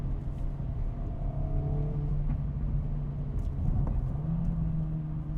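A 2025 Acura Integra Type S drives along in Sport Plus mode on smooth pavement, its engine humming and rising and falling in pitch over a constant road rumble, heard from inside the cabin with no talk.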